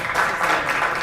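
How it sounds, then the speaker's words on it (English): Applause at a city council meeting in Fairfield, a short burst of many hands clapping steadily at close, loud level with no voices over it. "They deserve a round of applause."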